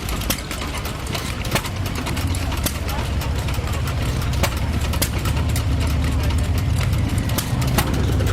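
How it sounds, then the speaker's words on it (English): A row of about a dozen stationary steam engines pumping water, heard in the background as a steady low chugging with rhythmic pops and puffs beneath a continuous mechanical rumble. "arguably a dozen steam engines that are pumping water"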